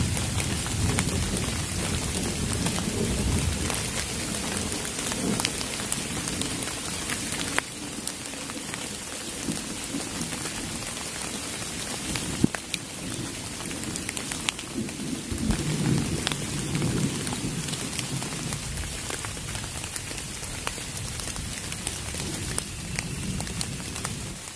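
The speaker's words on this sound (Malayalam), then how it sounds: "ഇനിയും ചാറ്റമഴ ഇങ്ങനെ പെയ്തുകൊണ്ടേ ഇരിക്കുകയാണ്" Steady rain falling around a solo bushcraft campsite, a continuous dense patter on surfaces with occasional louder drops and faint low rumbles, no voices.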